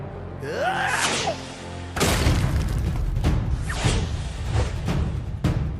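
A sliding, whistling zip gives way to a loud booming blast, followed by several more sharp bursts and thumps in quick succession.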